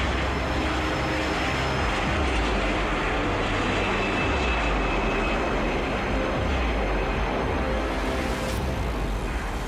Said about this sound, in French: le vol Air France 447 décolle à 22h29 avec 30 minutes de retard